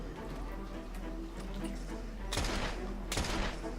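Two sharp bursts of gunfire in the video game Assassin's Creed Syndicate, each a broadband crack with a short tail, sounding over a steady low game drone and ambient hum.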